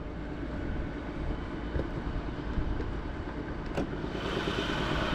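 A 2018 Chrysler Pacifica Hybrid engine runs steadily under the open hood with a constant broad rumble and hum, close up, with no talking.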